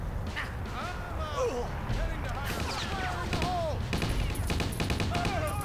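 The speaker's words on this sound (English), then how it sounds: "may as well try to find the one with the missile launcher and shoot him" Gunfire from the Stubbs the Zombie video game, scattered shots and bursts rising toward the end, mixed with game voices and chatter that run throughout.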